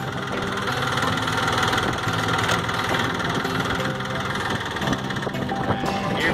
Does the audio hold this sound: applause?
no